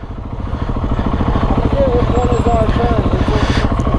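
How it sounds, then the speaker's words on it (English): A KTM 690 SMC supermoto motorcycle engine thrums under way, a close, loud, rapid rhythmic pulsing that builds in the first half second and then holds steady with slight wavering. "I am on a supermoto"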